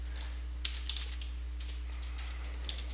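Rapid, uneven clicks of typing on a computer keyboard, close and fairly quiet over a steady low hum, with no speech.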